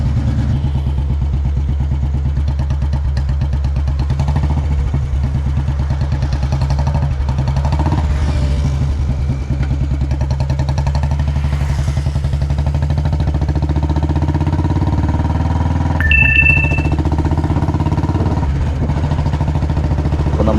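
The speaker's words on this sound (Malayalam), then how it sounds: "ക്ലാസിക്കിൻ്റെ രൂപത്തിലാക്കിയിട്ടുള്ള കൺവേർട്ട് ചെയ്തിട്ടുള്ള CI എൻജിൻ സ്റ്റാൻഡേർഡാണ്" A Royal Enfield Bullet Standard with a CI engine, converted to Classic styling, idles steadily and loud up close, its low thumping beat running unbroken the whole time with a brief high whine near the end.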